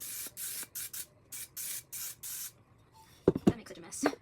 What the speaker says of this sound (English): Butter's everywhere, so now we spray.